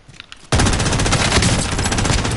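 Sustained automatic gunfire from the Call of Duty video game erupts abruptly after a quiet half second and keeps up loud and dense, with rapid overlapping shots filling the rest of the burst.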